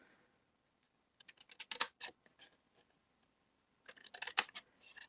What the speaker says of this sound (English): So we'll snip up these 2 center lines right here on both sides.